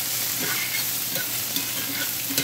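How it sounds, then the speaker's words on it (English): Steamed rice cake (char koay kak) stir-fried in a pan, with a steady close sizzle and occasional scraping and tossing clatter throughout. "Now add the rice cake."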